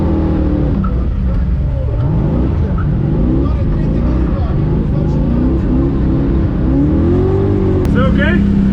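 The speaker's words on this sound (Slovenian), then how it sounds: "Nestabilen pogled je spremljala kombinacija zvoka motorja in cviljenja zavor." A drift taxi car at a drifting event, its engine revving hard and wavering up and down loudly and close, with a brief high squeal near the end.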